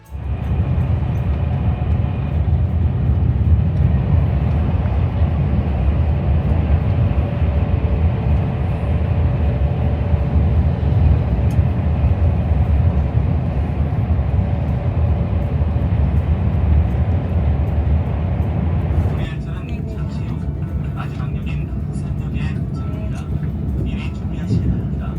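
A KTX high-speed train leaving Ulsan for Busan runs at speed with a loud, steady low rumble heard from inside, and its texture shifts to a brighter rattle near the end.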